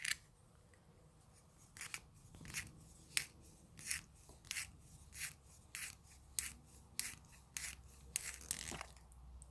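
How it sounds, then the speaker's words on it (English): A small hand-held pencil sharpener is tried out on a pencil, giving about a dozen short, regular rasping scrapes, each a quick grinding stroke with a gap between, close and fairly quiet with no one talking. "Sinterklaas gave me this sharpener. So let's see if it works"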